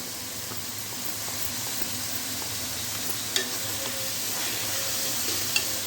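Minced keema cooks with ghee in a kadai for stuffed bitter gourds, a steady close sizzling hiss broken by a couple of faint clicks.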